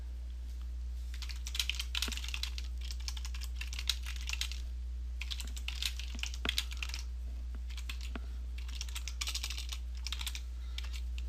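Typing on a computer keyboard while filling in an Excel spreadsheet: three bursts of quick, close key clicks separated by short pauses, with a steady low hum underneath and no talking.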